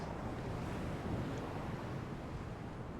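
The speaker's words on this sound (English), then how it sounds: "So 150 knot wind, and now the ship just takes off." Steady roaring wind and ocean waves surge around a ship in Microsoft Flight Simulator under a 150-knot gale, a dense unbroken wash of noise with no pauses.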